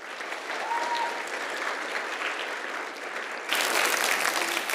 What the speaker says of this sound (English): Let's have another round of applause for the children.